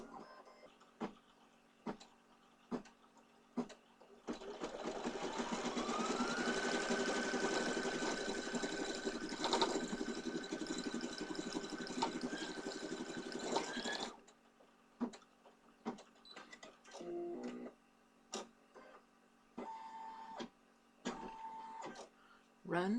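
An embroidery machine stitches a placement outline for the beard and hair of a Leprechaun's Pot O'Gold design. It gives a steady whirring hum with rhythmic motor tones for about ten seconds, framed by clicks and brief talk.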